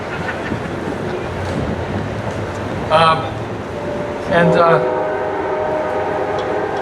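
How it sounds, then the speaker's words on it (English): A passing train rumbles steadily with two short horn blasts, loud and continuous throughout. "there's the train to Bermuda now."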